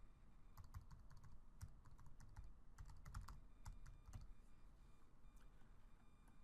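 Someone types a web address on a computer keyboard, a steady run of quick, light key clicks with small pauses, close by and with no voices.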